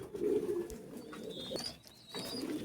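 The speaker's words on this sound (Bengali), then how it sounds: "এই হচ্ছে আর এক জোড়া হাই ফ্ল্যাং টেডি কবুতর" Imported high-flying teddy pigeons coo softly at close range, low throaty coos in a couple of bursts with quiet chirps in between.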